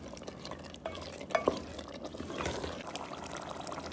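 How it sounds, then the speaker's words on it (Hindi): Water is poured into a cooking pot of roasted black chickpeas, faint and close, with soft stirring and a couple of clinks. "फिर इसमें थोड़ा सा पानी डालेंगे।"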